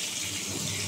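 Tap water runs steadily into a sink as freshly cut vegetables (pumpkin, drumsticks, tomatoes, long beans, potatoes) are rinsed, a close, even gush with no voices.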